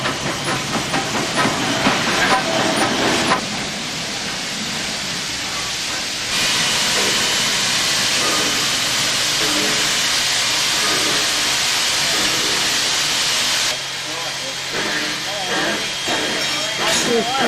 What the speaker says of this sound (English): Next adventure is a trip on the steam train up and down this Zig-zag railway.